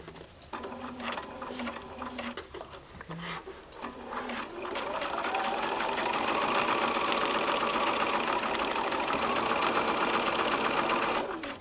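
A sewing machine stitches a quilt seam for a sampler quilt, with a few short handling sounds first and then a steady, close, rapid mechanical whir running for several seconds.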